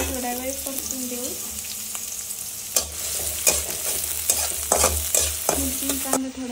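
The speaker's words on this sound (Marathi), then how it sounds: "आता आपण सगळ्यात आधी हिरवी मिरची टाकू, त्याच्यानंतर कांदा टाकू आणि दोन्ही मिक्स करून थोडा वेळ परतून देऊ." Green chilies and onion sautéing in hot oil for kanda poha, a steady close sizzle with a few sharp stirring scrapes and clatters of a spatula against the pan, no voices.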